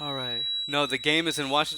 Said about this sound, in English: Sorry, my alarm's going off. The door was opened while the alarm was set.